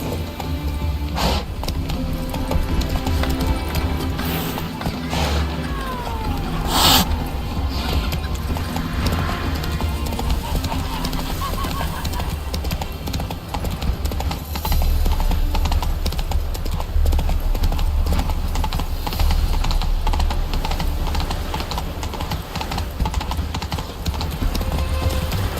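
The horse Roach gallops in the video game The Witcher 3 with a continuous rapid clip-clop of hooves, loud and steady throughout, with occasional whinnies and faint voices underneath.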